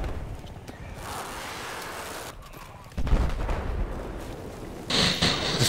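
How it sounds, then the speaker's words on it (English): Dense gunfire and explosions from the Battlefield 4 battlefield, with repeated sharp bursts and a heavy blast near the middle and another near the end, loud and close over constant combat noise. "Just been shooting at teammates."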